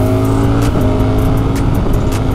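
A car engine holds a steady, loud drone with a sporty shifter, and one brief dip near the middle reads as a gear change. No one speaks over it.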